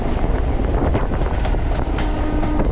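A MEMU suburban train runs between Avadi and Chennai Central, heard from inside as a steady, loud rumble and rattle of wheels and carriage with rushing wind noise throughout.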